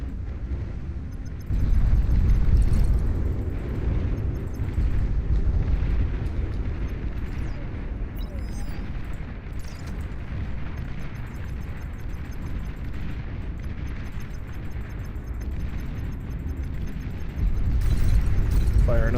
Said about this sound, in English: Fire another volley of torpedoes.